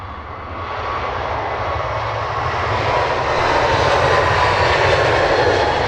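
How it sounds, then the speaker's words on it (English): A DHL Airbus A300 freighter arriving at London Luton Airport, its steady loud engine roar swelling gradually and holding strong throughout, with no talk over it. "We also have the ever-loved Airbus A300, DHL freighter."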